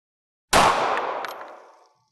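A single pistol shot rings out close and loud, fired while comparing polymer and metal frames. A sharp crack is followed by a reverberant tail that fades over about a second and a half.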